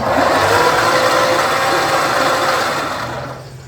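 A 1963 Ford Y-Block V8 engine cranks over steadily at close range, a dense mechanical churning roar that fades slightly toward the end.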